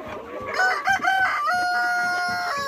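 Farm chickens cluck and a rooster crows nearby in a short, lively burst of overlapping calls, with one long drawn-out crow toward the end.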